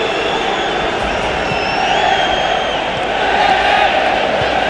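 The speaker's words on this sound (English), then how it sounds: "The crowd upon Derby Day." Football crowd at a Liverpool Derby Day match, a steady dense roar of many voices filling the stadium, swelling slightly toward the end with a commentator's voice faintly underneath.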